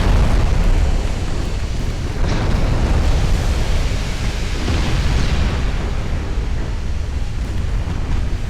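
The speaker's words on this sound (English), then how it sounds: "Oh, that was an ammo detonation." A warship's magazine detonates in Ultimate Admiral: Dreadnoughts, heard as a loud, dense, sustained roar that rumbles steadily for several seconds with no voices.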